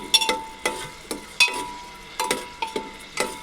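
Chopped onion frying in hot oil over high flame for chicken biryani, with a soft sizzle punctuated by sharp clinks and scrapes of a spoon stirring against the pan in an irregular rhythm.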